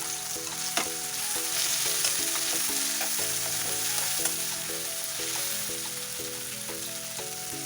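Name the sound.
frying and stirring tomatoes with chili powder and turmeric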